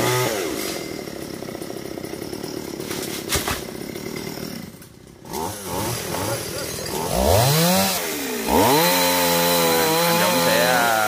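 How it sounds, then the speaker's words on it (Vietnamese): Four chainsaws roar together close by, cutting down trees in a garden, their engines revving and dipping in overlapping loud whines with no break. "4 cái máy cưa chạy một lúc."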